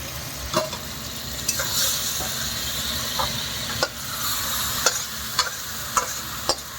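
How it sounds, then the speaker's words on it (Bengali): Raw spice paste frying hard over a high gas flame, a steady loud sizzle and hiss with sharp clinks of a spatula stirring and scraping the pan at irregular intervals. "আর গ্যাসটা এরকম জোরেই থাকবে, ঝপ করে ছেড়ে ভালো করে কাঁচা মশলাটা কষিয়ে নেবো"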